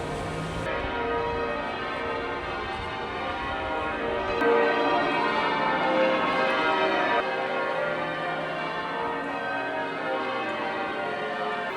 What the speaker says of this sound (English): The bells were pretty overwhelming,